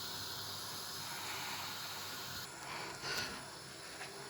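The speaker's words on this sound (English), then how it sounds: "while the stew is simmering" Pumpkin stew simmering slowly in a pan: a faint, steady hiss with soft bubbling, continuous and close, with no voices.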